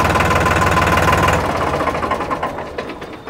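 A steady mechanical 3630 tractor engine chugging loudly and evenly, then gradually fading and thinning out toward the end.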